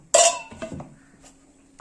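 Spices, turmeric plus cumin and coriander powder, mixed with a little water, one sharp metallic clink of a spoon against a bowl, then a few softer taps and a last light knock.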